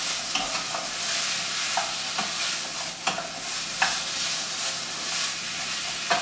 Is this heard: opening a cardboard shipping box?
no